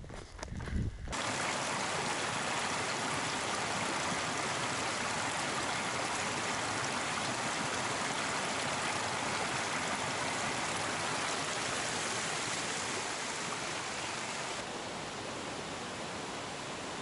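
Steady rushing of a seasonal creek on the Pacific Crest Trail near Belden, continuous and fairly close, a broad hiss of water with no voices, holding even for the whole stretch.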